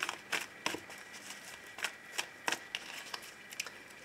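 Oracle cards being shuffled by hand give a run of crisp, riffling flutters and soft slaps in quick irregular bursts, close and fairly quiet, with no voice over them.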